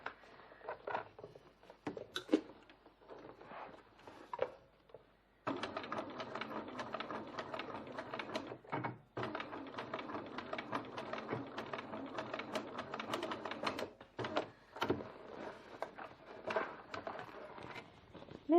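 A sewing machine stitches the final assembly of a fabric bowler bag in a steady run of rapid mechanical clatter, broken by short pauses and a few brief bursts, close and moderately loud.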